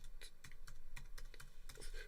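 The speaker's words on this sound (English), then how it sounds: "I go to Splice and type in" Typing on a computer keyboard into a music sample search, a quick irregular run of close, crisp key clicks and taps alone for about two seconds.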